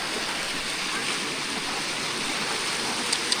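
Floodwater rushes fast along a flooded road in Laos after overnight rain, a loud, dense, continuous roar of flowing water that fills the whole scene without pause.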